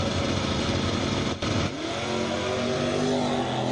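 A 1986 SVO Mustang lines up against a Camaro at a drag strip, its engine droning loudly before a short break and a rising rev as the launch begins.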